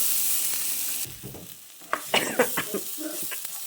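Crushed ginger, garlic and green chili hit a hot pan and sizzle steadily, with stirring clatter and scraping layered over the frying hiss.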